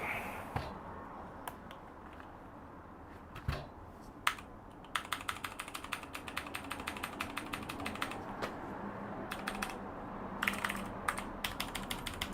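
Keys clacking on a computer keyboard during a new desktop PC build, with sparse taps first and then a long run of quick, fairly close keystrokes, with no talking.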